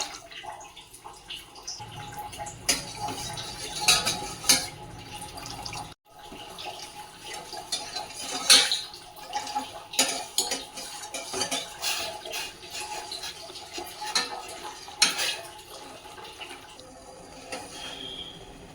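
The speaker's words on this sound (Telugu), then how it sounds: "ఇప్పుడు ఒక గ్లాస్ కొబ్బరి నీళ్ళని యాడ్ చేసుకొని కలుపుతూ బాయిల్ చేసుకోవాలి." A spoon clinks and scrapes around a pot of boiling coconut water in uneven strokes, with faint watery sloshing and kitchen clatter close by.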